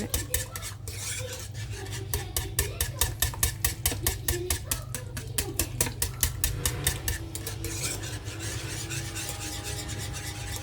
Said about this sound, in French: Et vous mélangez comme ça jusqu'à obtenir une belle béchamel.